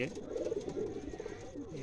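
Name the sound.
pigeon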